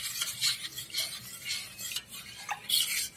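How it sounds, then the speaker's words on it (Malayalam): A spoon stirs two glasses of yogurt thinned with water for a Kerala-style recipe, with soft, close scraping and clinking of metal against the container in irregular strokes and no talking. "ഈ 2 ഗ്ലാസ് തൈരിലേക്ക് ഇപ്പൊ വെള്ളമൊഴിച്ചിട്ട് ചെയ്യേണ്ട ഒരു കാര്യം എന്ന് വെച്ചാൽ നന്നായിട്ട് ഇങ്ങനെ ഇളക്കണം"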